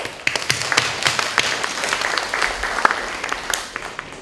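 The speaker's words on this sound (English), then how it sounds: "let's give a big applause to welcome Mr. Jim Nicol" A university lecture audience claps to welcome a guest speaker, a moderate-sized room of scattered, uneven applause that holds steady for a few seconds.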